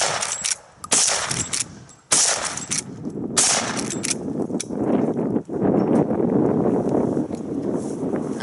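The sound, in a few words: Rossi Rio Grande 45-70 rifle gunshots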